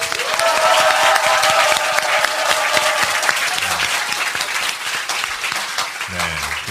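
Loud, sustained applause from a studio audience opening a Korean political talk show taping, a thick crowd of clapping hands throughout with some voices mixed in toward the end.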